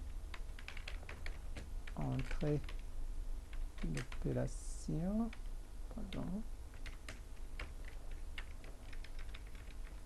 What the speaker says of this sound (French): L'opération sera une valeur tapée au clavier input